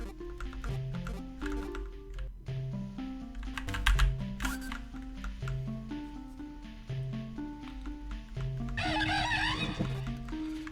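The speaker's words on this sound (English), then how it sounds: "Monferno's cry sounds like a fucking chicken" Fan-made Pokemon Heritage game playing a Monferno cry, a squawking, clucking call like an angry chicken, heard against looping chiptune-style background music with bright bursts of sound.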